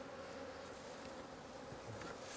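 A dense, steady hum of many honeybees buzzing together in a large hive, close and continuous, with no voices.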